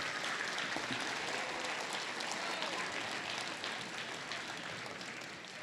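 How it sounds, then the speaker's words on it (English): A theater audience at a student film screening gives sustained applause for the filmmaker, a dense, even wash of many hands clapping that fades slightly toward the end. "let's acknowledge Miles's work by giving him a round of applause"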